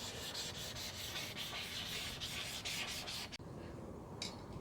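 A 400-grit sanding block is rubbed across a BMW E70 X5 V8 headlight lens. Fast, rhythmic scraping strokes run continuously and close up, then stop briefly before one last stroke.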